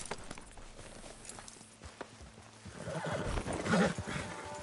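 A horse in the Red Dead Redemption 2 video game whinnies and walks, with soft hoof clip-clops throughout and a louder, closer neigh rising near the end.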